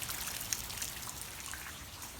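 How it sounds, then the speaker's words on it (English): Steady rain falling outdoors near a shed, a soft broadband hiss with scattered drips and patters, fairly faint and continuous with no voices. "so it started raining"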